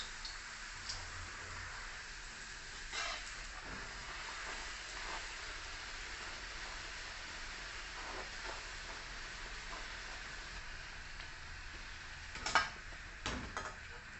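A steady crackling sizzle of a puri frying in very hot refined oil, with a few sharp clinks and taps of utensils over the constant hiss.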